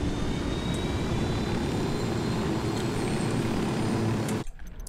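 A helicopter engine in the video game Ghost Recon, a loud, steady, dense roar that runs unbroken for several seconds and then cuts out abruptly near the end, with no voices.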